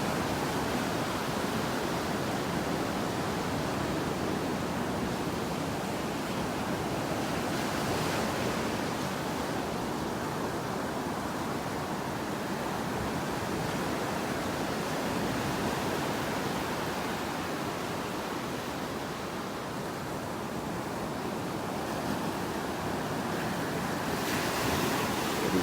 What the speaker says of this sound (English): It's dark out there in the water.